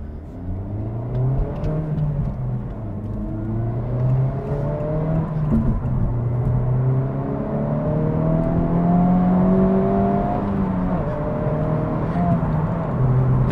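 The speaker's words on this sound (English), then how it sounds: "I'm gonna put myself into sport mode because I will be trying to beat the other 2 lanes" A Honda Civic Type R in sport mode accelerates hard from the cabin, engine note rising through the revs in repeated climbing sweeps with brief dips at gear changes, loud and steady with faint voices underneath.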